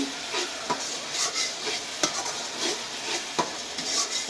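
Masala for a hilsa fish curry sautés in a pan with a soft continuous sizzle, punctuated by regular scraping and clinking stirs of a spoon, heard up close with no speech.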